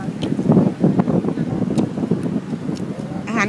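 Steady wind rushes past the microphone by the sea at Khao Kalok, a broad, continuous roar with gusty swells and no speech over it.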